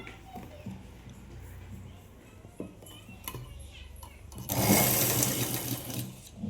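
Sewing machine stitching pant fabric pieces together, quiet handling and clicks at first, then a loud, steady mechanical whirr of stitching near the end, close by.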